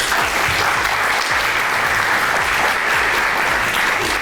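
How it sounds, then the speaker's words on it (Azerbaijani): A theatre audience at a live youth comedy show claps in sustained, dense applause, loud and close throughout with no voices over it. "O da beyləqanlılardır, bax alqışlayınlar."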